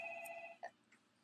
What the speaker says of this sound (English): That phone's ringing now.